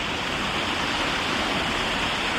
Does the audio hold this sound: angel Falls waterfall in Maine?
yes